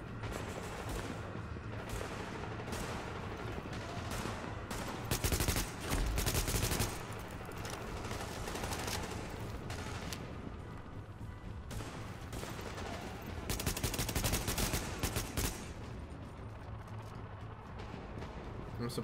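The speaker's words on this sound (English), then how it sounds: "I'm suppressing the sniper so he can't shoot you." Sustained suppressing fire in The Division, Lincoln Tunnel mission: rapid automatic gunshots rattle on and off throughout, with louder, denser bursts at intervals and a voice talking over the shooting.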